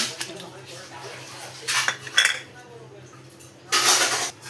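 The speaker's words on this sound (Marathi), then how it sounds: "तर हे तेल मी सगळं काढून घेणार आहे" Utensils clink against a kadhai as the oil is taken out of it, a few close metallic knocks and scrapes separated by quiet pauses.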